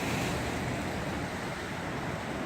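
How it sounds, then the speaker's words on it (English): Waves break against shore rocks on Lake Superior, a steady, loud rush of surf and wash with wind noise and no pauses. "Look at the waves. They just pop up."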